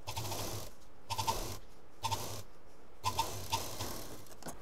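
A sewing machine stitches a fabric shopping bag in short bursts about a second apart, each a close, rapid mechanical chatter separated by brief pauses, with no talking.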